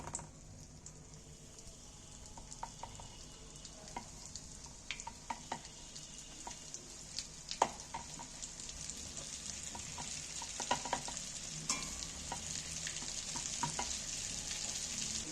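Flour-coated chicken pieces fry in hot oil for sweet and spicy Korean chicken, a steady soft sizzle with scattered crackles and pops that grows slightly louder over time, with no talk.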